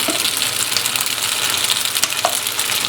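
Macaroni sizzling and frying steadily in a pan as chili sauce goes in, a dense, close hiss with a few faint clicks of stirring, no voices.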